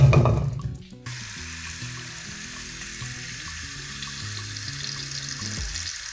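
Running water pours steadily into a cooking pot of cut vegetables for mashed potatoes, a continuous rushing splash that starts after a brief clatter and keeps going at an even level.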